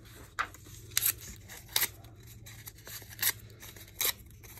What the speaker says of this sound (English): I'm gonna rip it to make it smaller